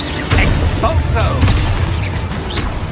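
An Expulso exploding spell goes off in Hogwarts Legacy, a close burst followed by rolling, crackling blast noise and scattered impacts, with a voice shouting over it.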